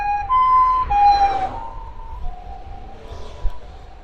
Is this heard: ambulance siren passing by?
yes